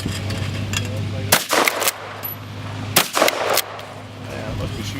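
Two loud shotgun blasts fired at clay targets outdoors, a couple of seconds apart, each sharp crack trailing into a short echo over a low steady background hum.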